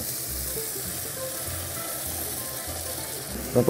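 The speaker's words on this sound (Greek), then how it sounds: "Πάμε λοιπόν τώρα να προσθέσουμε το νερό." A steady sizzle and hiss of meat frying in a pan, with a short splash of water added right at the end.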